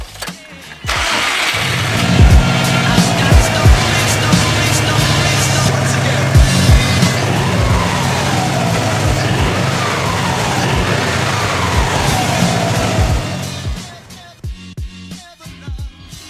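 Subaru Impreza bugeye turbo engine fitted with an HKS blow-off valve cranks and fires up close by, then settles into a loud, steady rumbling idle before cutting off near the end, with a voice briefly heard.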